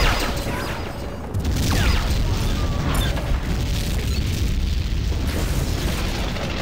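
Enemy turrets exploding in the game Tribes 2, heavy booming blasts and rumbling debris in a loud, continuous clash of in-game weapons and mechanisms.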